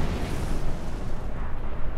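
A Star Trek Online explosion gives a sustained, loud, dense roar with heavy rumbling low end. It holds for about two seconds with no speech over it.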